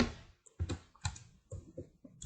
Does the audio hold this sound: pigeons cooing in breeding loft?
no